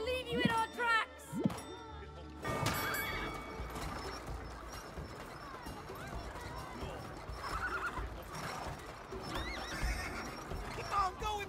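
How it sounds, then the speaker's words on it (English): Horse neighing and whinnying, then galloping hooves clip-clopping in the co-op video game It Takes Two; two sharp whinnies come first, followed by a steady stretch of galloping hooves under game music and ambience. "Against my winning horse."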